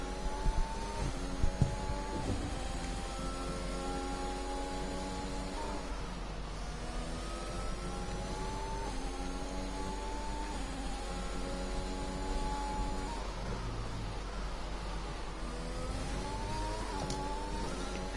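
Several Formula 1 cars race at Imola, engines screaming with rising and falling pitch through gear changes, overlapping cars layered continuously at a steady loud level.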